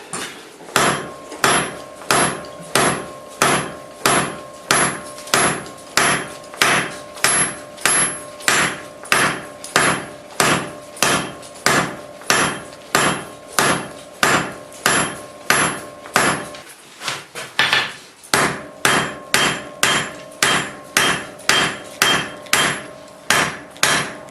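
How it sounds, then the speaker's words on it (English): Steady half on, half off hammer blows ring on the far side of an anvil while forging bolt jaw tongs, a long even rhythm of about two strikes per second, close and loud, with one brief pause. "do half on, half off blows on the far side of the anvil"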